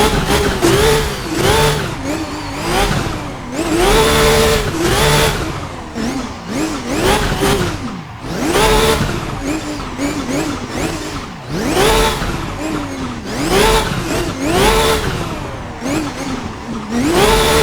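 A drift car revving hard while warming up its tyres before a run, repeated rising and falling engine revs in quick waves, loud and close, with no talk over it.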